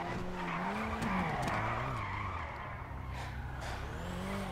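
A car drifts in GTA with tyres skidding and squealing over a revving turbo engine whose pitch rises and falls, loud and continuous with no talk.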